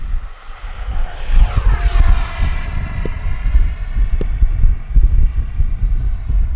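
An Arrows RC Marlin (Avanti) model jet passes at full speed, a steady loud whine of its ducted fan with a rising and falling sweep as it flies by, continuous with no talk.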